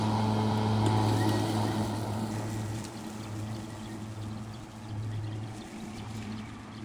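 An EGO 30-inch battery lawn mower cuts tall grass in a backyard, its electric motor giving a steady close hum with a low whir that rises and dips slightly as it moves.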